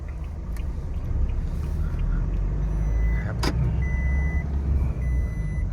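A 2022 Toyota Hilux Revo 2.4 manual double-cab pickup on a test drive: steady engine and road rumble heard from inside the cab, with a few faint electronic beeps and a brief click partway through.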